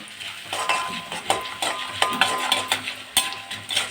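Coriander seeds and spices dry-roasting in a pan over low heat for Tirunelveli tamarind kuzhambu, stirred in a steady rhythm of close scraping, rattling strokes with a faint fry underneath and no speech.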